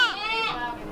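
Baby goat kid bleating loudly and close during a vet's disbudding visit, a wavering harmonic cry starting strong, dipping, then a second bleat that trails off, with faint room sound beneath.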